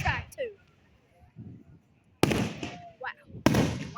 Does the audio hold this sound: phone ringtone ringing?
no